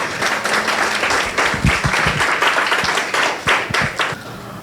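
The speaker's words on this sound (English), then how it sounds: "So another little round of applause." A workshop audience claps in a brief round of applause, fairly close, with a few sharp individual claps standing out from the steady patter.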